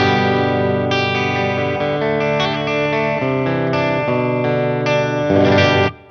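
Electric guitar played through the clean channel of a Marshall amp with the pedal bypassed: bright sustained chords ring out one after another, loud and close, ending abruptly.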